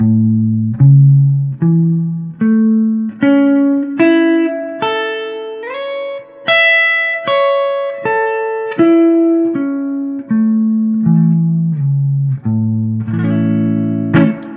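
Clean, slow guitar notes step through a sequence of intervals, climbing and then descending, each note ringing out with a steady, even rhythm.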